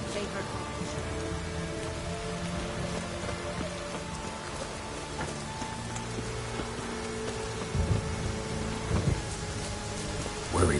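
Steady rain pours down through a stormy scene in The Witcher 3, with low thunder rumbles swelling near the end and muffled voices briefly under the downpour.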